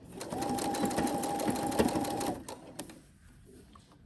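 A sewing machine runs steadily as it stitches around a small fabric drawstring bag, a close, even mechanical whir with rapid needle pulses that stops partway through, leaving a few faint clicks and handling sounds.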